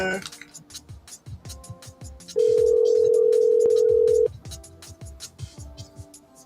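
An outgoing phone call rings back, a steady electronic tone holding for about two seconds between rhythmic tapping and clicks, loud and close.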